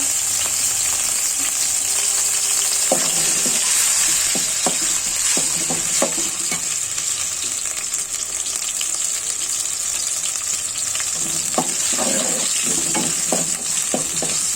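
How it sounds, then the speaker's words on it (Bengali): Constant high sizzle of poppy seeds and cumin frying in hot oil, with intermittent scraping and clinking of a spoon stirring the pan. "খসাটা ভেজে নিব জিরা দিয়ে দিচ্ছি"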